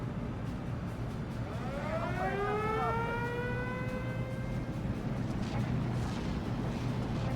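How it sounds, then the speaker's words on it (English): Incoming artillery in the WWII strategy game Steel Division 2: several shells whistle downward in pitch, overlapping over a steady low battlefield rumble, moderately loud and continuous. "A lot of artillery coming in on this."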